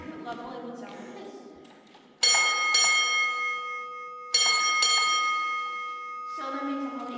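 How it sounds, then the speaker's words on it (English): Two loud metallic strikes of an underground mine signal bell at a New Jersey zinc mine, sounding the call for the hoistman to go to the 600-foot level, each ringing out and decaying over low talk. "they had to actually use a bell signal system because we are underground"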